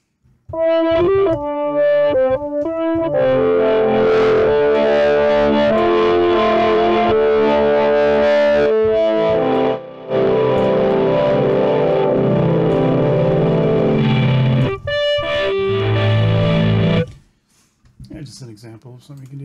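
An Omnisphere software synthesizer plays dense chords drenched in distortion and echo effects, loud and sustained, with a brief pause midway and a fade near the end.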